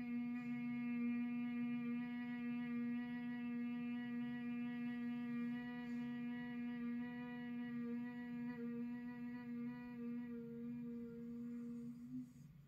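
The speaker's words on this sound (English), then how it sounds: "And exhale slowly and steady with humming bee." A steady, low humming-bee breath (Bhramari) on a slow exhale during yoga practice: one continuous, close, soft hum that tapers off at the end.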